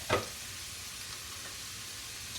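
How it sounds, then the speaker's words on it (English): A steady hiss of vegetables and onions sizzling in a hot stock pot, with a brief louder crackle at the start, then constant frying noise. "dump them right into the stock pot. And they make that satisfying sizzle."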